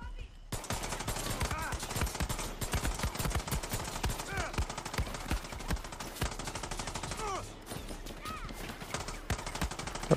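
Rapid gunfire in Far Cry 6 while a horse clip-clops along, dense bursts of shots running almost continuously and close up, with a few brief tonal game sounds over the top.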